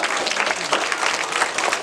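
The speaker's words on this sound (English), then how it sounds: "Can we give all of our actors a round of applause?" An audience applauds actors after a story performance, dense sustained clapping from a crowd, loud and close, with no talk over it.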